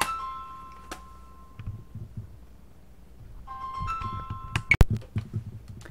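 A phone ringtone plays an electronic melody for an incoming call, sounding in two bursts with a pause between them, moderately close, with no one talking.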